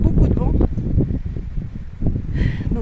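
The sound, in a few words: strong wind blowing while hiking in Aubrac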